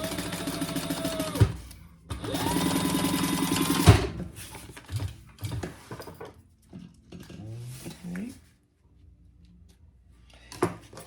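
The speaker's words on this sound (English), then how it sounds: "we're going to sew that together at the same seam allowance" A sewing machine stitches a bag seam in two sustained whirring runs, then slower short bursts and stops, with light handling clicks and fabric rustle between, close and clear.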